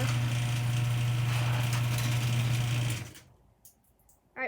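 An old LiftMaster 1/3 horsepower chain drive garage door opener runs with a steady motor hum and chain rattle for about three seconds, then cuts off, leaving near silence and a faint click.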